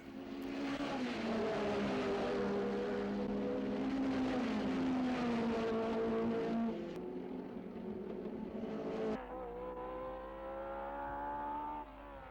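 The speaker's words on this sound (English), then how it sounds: "its Coventry Climax engine was sounding as if it was never going to miss a beat" A Lotus 25 race car with a Coventry Climax engine, racing, howls loud and steady as the engine revs, pitch sliding down then up, with an abrupt change in tone near the end as it passes; no talking is heard.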